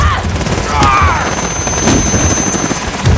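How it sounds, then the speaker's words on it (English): Helicopter rotor drone from the Call of Duty Modern Warfare video game, a loud continuous roar mixed with game effects and brief voices throughout. "I'm over here wondering why he didn't keep the helicopter hovering"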